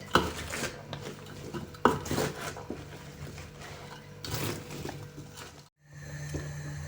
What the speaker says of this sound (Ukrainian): Огірки пустили багато соку і ставимо їх варити постійно помішуємо